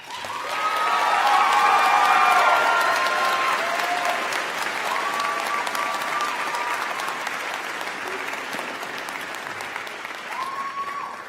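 Commencement ceremony audience for the PLU Class of 2024 College of Professional Studies breaks into sustained applause with some cheering, swelling loud early then gradually easing while still going strong to the end.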